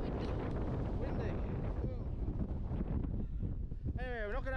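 Strong wind buffeting across a clouded-over fell summit in the Lake District at 529 metres, a loud continuous roar dominating throughout, with a brief voice and a bird-like chirp near the end.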